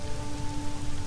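Rain starting to fall in the SimCity Societies video game, a steady hiss of rain on surfaces with a faint tonal hum beneath, brief and alone.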